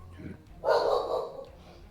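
A dog gives a single short bark or yip, close and moderately loud, with quiet background noise around it.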